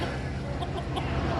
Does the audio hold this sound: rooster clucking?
yes